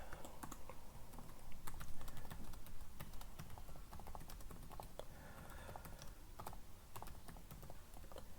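Keystrokes tapped out at an uneven pace on a keyboard connected to a KIM-1 computer, the clicks sharp and close over a steady low hum, with no talking.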